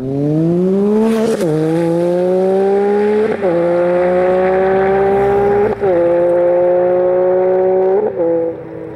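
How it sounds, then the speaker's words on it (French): Triumph Tiger motorcycle with an aftermarket Akrapovič-style exhaust, revving loud and close with a deep, powerful note, rising in four or five sustained pulls with brief dips between. "C'est un pot comparable à Krapovic. Qui fait un bruit beaucoup plus puissant et plus grave que le bruit d'origine"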